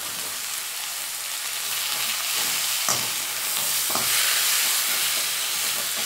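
Loud, steady sizzling of paneer and potato gravy vegetables frying in a pan, with a couple of sharp scrapes as it is stirred.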